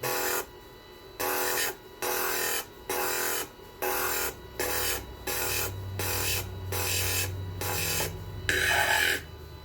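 A stone polished against a wet polishing wheel gives a steady grinding rasp that pulses in about ten regular bursts, with a low motor hum building underneath in the second half.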